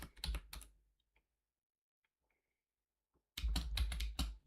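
Quick bursts of computer keyboard typing, close and crisp, come in two clusters separated by a long quiet pause.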